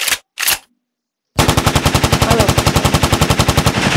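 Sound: PKP machine gun firing in surviv.io video game

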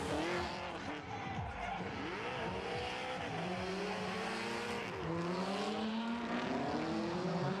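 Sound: drift car with 800 horsepower starting its run, tires squealing

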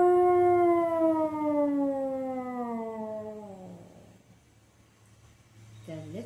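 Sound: imitation of a dinosaur roar

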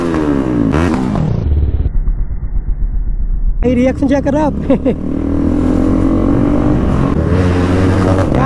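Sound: RS200 motorcycle with loud aftermarket exhaust revving

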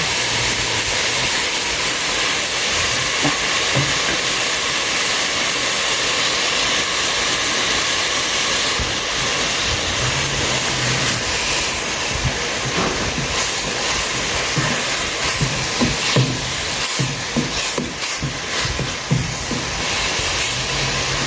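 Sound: pot of curry boiling

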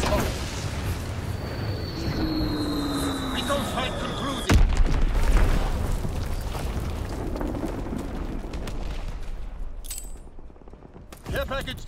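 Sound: bomb explosion from the video game Call of Duty WWII

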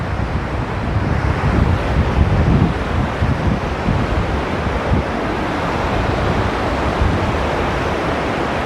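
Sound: Ganga river flowing at Devprayag ghat

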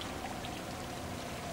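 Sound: rushing water in drainage system, from video game Cursery

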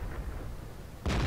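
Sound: tank cannon shot in World of Tanks video game

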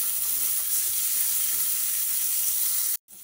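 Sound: frying ginger, onion and tomato in a hot pan

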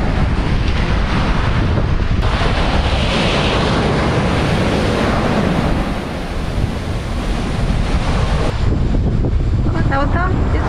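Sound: beach with waves and wind

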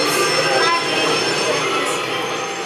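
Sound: train wheels squealing

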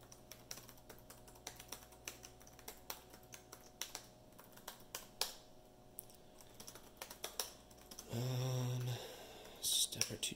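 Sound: typing a password on a computer keyboard

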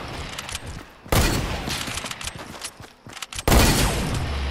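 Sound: sniper rifle headshot in video game Fortnite

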